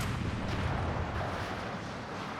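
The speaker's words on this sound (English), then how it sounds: "So yeah, they've got new explosion effects on this as well." A demo charge or Goliath explosion in Company of Heroes 3 booms at a distance, leaving a dense, rumbling low roar that holds steady and slowly eases over a couple of seconds, with no voices.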